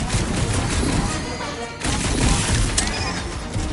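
Rocket's guns firing in a dense, continuous fusillade during a Guardians of the Galaxy video game battle, loud and steady with a brief dip midway, crashing impacts mixed in.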